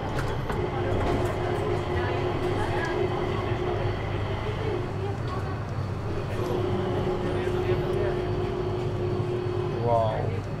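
An airport train ride in Singapore, with a steady rolling rumble and mechanical hum filling the carriage throughout and faint squeals near the end, while a person speaks over it.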